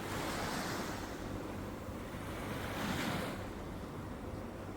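Calm sea waves on the soft-sand beach at Marsa Matruh, a continuous broad wash of surf with a gentle swell building near the end, mixed with light wind noise and no voices.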